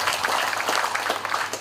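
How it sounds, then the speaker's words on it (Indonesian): Applause from an audience at a formal opening ceremony for the Pangeran Diponegoro room in Kota Tua, Jakarta. The clapping is steady and fairly dense and continues for the whole of the brief moment. "Kita beri tepuk tangan kepada mereka semua."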